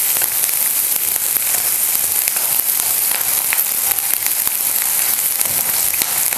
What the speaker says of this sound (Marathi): कांदा आहे ना आपल्याला लालसर होईपर्यंत हे कांदा परतून घ्यायचा